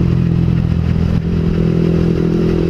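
Sport motorcycle ridden on a Sunday group ride to Banjarnegara, a loud continuous engine drone with wind rush, steady throughout with a brief dip in the middle.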